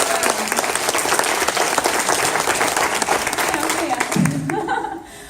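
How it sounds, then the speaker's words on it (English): An audience at a talk by an artisan group leader from Haiti breaks into dense, sustained applause that holds loud and steady for about five seconds, then drops off quickly as a voice returns. "So can we give a round of applause for that?"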